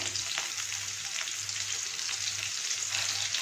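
Chopped large onions sizzle steadily in a pan while cooking down for a potato cauliflower masala, a continuous close frying hiss with faint stirring scrapes and no talking.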